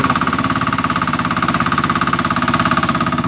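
A tractor engine runs with a loud, rapid, even chugging pulse, steady and close throughout with no talking.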